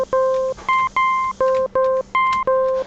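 A loud Sega Genesis-style FM synthesized tone at doubled volume plays in short repeated notes, stepping between two pitches in a steady rhythm, bright and beeping with no voices.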